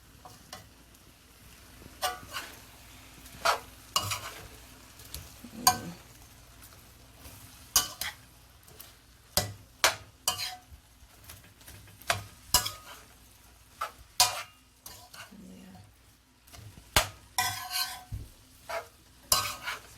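Jamaican-style shrimp and egg fried rice with vegetables being stirred in a pan: a low sizzle beneath frequent sharp scraping and clacking strokes of the utensil against the pan, coming in uneven bursts.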